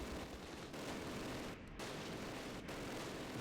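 Continuous gunfire in the Close Combat war game, The Longest Day at Pegasus Bridge: a faint, steady crackle of distant rifle and machine-gun fire with a couple of brief gaps, no voices.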